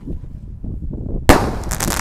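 A jumbo Bima Sakti firework ignites during a Ramadan afternoon session, a sudden sharp bang after quiet low rumbling, followed by a sustained loud crackling hiss.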